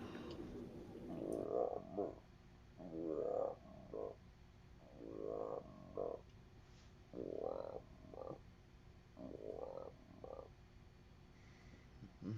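A person imitates a frog with low, throaty croaks, five or six evenly spaced rumbling calls about two seconds apart, close and fairly quiet against a faint background hum.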